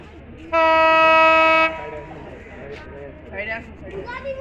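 A Banglabandha Express train pulling passenger coaches enters Chirirbandar station, sounding one loud, steady horn blast for about a second, followed by rail rumble and nearby people talking.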